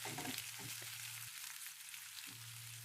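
Onion, paste and tomato slices fry in a pan with a quiet, even sizzle and a low hum underneath, with occasional faint stirring movements, close and soft.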